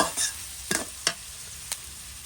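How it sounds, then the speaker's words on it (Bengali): Prawns frying and being stirred in a pan with oil, a quiet sizzle broken by a few sharp scraping strokes of the spoon, near and alone with no voices. "এই যে চিংড়ি মাছ দেওয়া হয়েছে এখন কষানি হইলে তারপরে মশলা দেওয়া হইবে"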